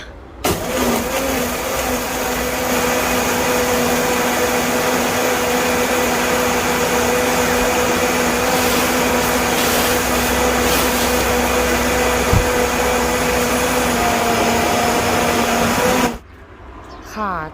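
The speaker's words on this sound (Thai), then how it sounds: "เทใส่เครื่องปั่นนะคะ จากนั้นตามด้วย น้ำชาเย็นที่เราเตรียมไว้นะคะ ก็ไปปั่นกันเลยนะคะ" A blender whirs steadily at high speed for about fifteen seconds while blending Thai iced milk tea, a loud continuous motor drone that cuts off abruptly at the end.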